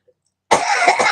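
A nervous person coughs up close, a sudden loud harsh rasp that starts abruptly after a brief silence and runs on as one continuous burst.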